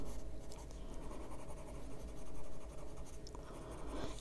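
A plain blending stump with no solvent rubs over colored pencil on paper, giving close, steady, soft scratchy strokes with no talking.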